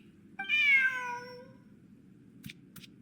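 A single drawn-out cat meow from a Genshin Impact game scene, clear and close, rising then fading over about a second, followed by two faint brief clicks against a low background hum.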